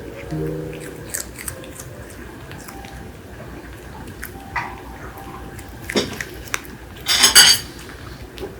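Puppy eating carrot in a hurry, with scattered crunchy bites and clicks near the bowl, then a louder burst of crunching near the end; a faint voice is briefly heard.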